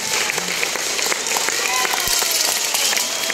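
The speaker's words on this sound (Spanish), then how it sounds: "merece que le demos un aplauso" Applause from a crowd at a public gathering honoring a local councilwoman, steady dense clapping filling the clip with voices and cheers mixed in.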